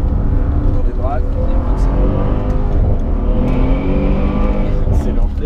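A Mercedes SL 63 AMG accelerates hard around the La Ferté-Gaucher race circuit, its loud, steady engine roar rising in pitch, with a voice talking over it.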